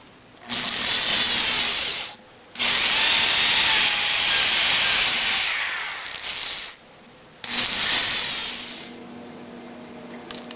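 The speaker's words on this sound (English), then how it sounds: "you definitely want to start by starting your hole with a small drill bit" A power drill whirs loudly up close in three bursts with short pauses between, the pitch wavering as a small bit drills pilot holes into a wooden cabinet.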